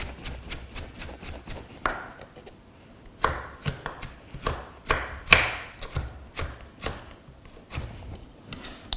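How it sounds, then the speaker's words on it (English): Knife slicing vegetable wedges into fine julienne strips on a board, a rapid series of crisp, close chopping taps in quick irregular bursts, fairly quiet, with no talk. "I can slice those into what we call julienne, or finely slices"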